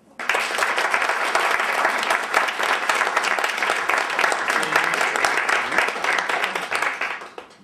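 A church congregation breaks into sustained, dense applause and clapping that holds steady throughout, loud and close, with a few voices mixed into the crowd noise.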